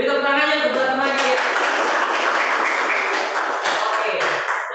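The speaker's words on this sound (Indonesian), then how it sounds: "Beri tepuk tangan yang teman-teman ya." Classroom applause from a group of students during a class session, a dense, steady wash of clapping that runs the whole span with a brief voice at the start.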